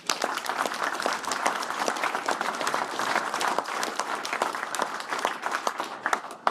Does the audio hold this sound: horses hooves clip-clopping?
no